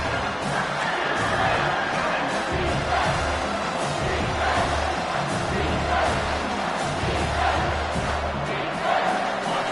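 A packed football stadium crowd roars after a big third-down play, a dense, sustained wall of cheering and shouting that stays loud and steady throughout with no clear pauses.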